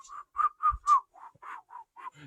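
A person whistles a quick string of short, clear, mid-pitched notes, each one clipped and separated by brief gaps, with a faint low thump partway through and no talking.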